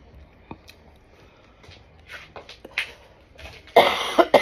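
A woman coughs during a mukbang meal, several short bursts building to a louder, harsher cough near the end, close to the microphone, with faint quiet sounds before it and no speech.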